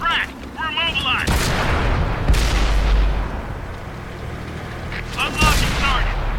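Heavy tank guns booming in a World of Tanks-style battle around a Tier 5 Pz.Kpfw. V/IV, several loud close blasts with rumbling decay, mixed with game radio chatter and a player talking.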